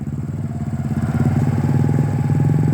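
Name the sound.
motorcycle engine running while walking the bike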